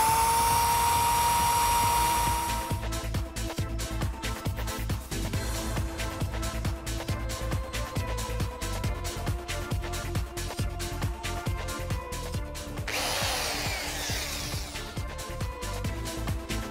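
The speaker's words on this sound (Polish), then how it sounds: "najpierw się wierci dwie dziury po przekątnych, przyczepia je nitami, a potem wierci następne" Power drill boring holes in sheet panels on a kit car build, riveting between holes; a steady high whine runs most of the way with dense rapid ticking, and the pitch shifts near the end.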